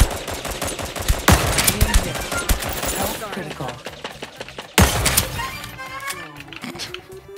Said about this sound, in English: Oh wait, are you being shot?